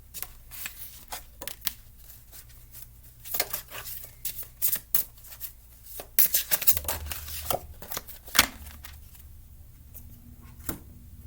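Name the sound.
shuffling Dark Mirror Oracle cards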